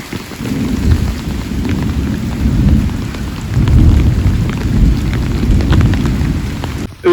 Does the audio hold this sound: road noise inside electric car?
no